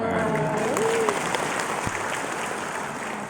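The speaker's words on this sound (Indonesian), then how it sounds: "tepuk tangan" Audience applause at the opening ceremony of a Persis congress, a steady wash of clapping from a crowd with a voice briefly heard over it near the start.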